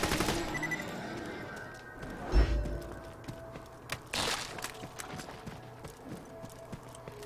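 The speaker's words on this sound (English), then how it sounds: "So this is a Vladov pistol, so that means it has a high fire rate." Rapid pistol fire from a Vladov repeater pistol in Borderlands 2, a rattle of quick game gunshots with a heavier boom partway through, mixed with clattering effects and background game noise.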